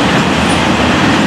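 Loud and close, an FEC freight train rolls past in a dense, continuous rumble of wagons with faint rhythmic clatter, no voices.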